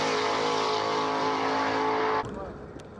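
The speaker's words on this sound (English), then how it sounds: "found ourselves at a small drag strip hidden behind the airport" Loud, close engine roar of a car racing at a small drag strip behind an airport, holding steady for about two seconds before cutting off abruptly to quieter background noise.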